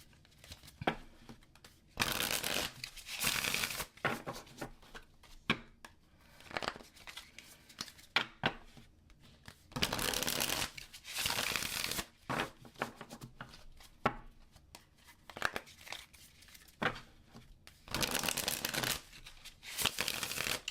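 Tarot cards being shuffled by hand in bursts of quick riffling and sliding, several distinct rounds separated by brief pauses, close and clear with no talking.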